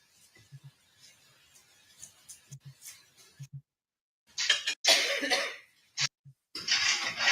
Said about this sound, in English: They're still coughing in the courtroom.